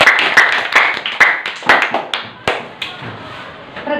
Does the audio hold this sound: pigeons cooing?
no